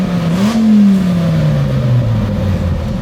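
Third-generation Dodge Viper V10 exhaling through side pipes, a loud close engine note that rises briefly with a rev and then drops in pitch as it settles.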